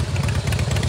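A 2016 Harley-Davidson Softail Slim S with a 110 Screamin' Eagle V-twin idles nearby, a loud, deep, loping rumble with steady uneven pulses.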